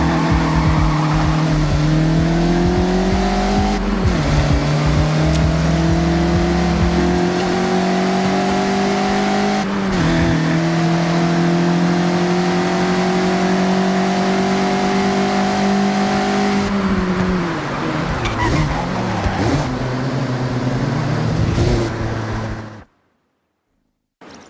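A Mazda MX-5 in the Forza Horizon 6 racing game is driven hard through corners, its engine revving loud and steady with pitch shifts at each gear change, tires squealing and skidding, before the sound cuts off abruptly.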